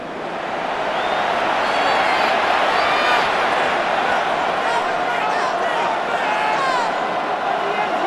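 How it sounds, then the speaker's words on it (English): A stadium crowd roars steadily in a Madden NFL 26 simulation of the Washington Commanders against the New York Giants, a broad continuous cheer under a play-by-play commentator's voice. "This crowd into it now as we get to 3rd down"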